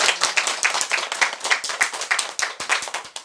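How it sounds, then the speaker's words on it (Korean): Small audience clapping together at a fortune-telling session, a brisk, even rhythm of close hand claps in unison lasting a few seconds. "우리 박수 한번 쳐드려요."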